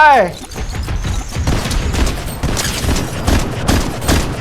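Gunfire in Fortnite Zero Build, a rapid burst of shots and mechanical clatter after a brief opening sweep, loud and close, with a Thai-speaking player talking over it.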